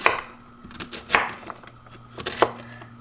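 Onion being chopped on a cutting board in a home kitchen, with a few sharp knife strikes spaced irregularly over a low background hum, close and moderately loud.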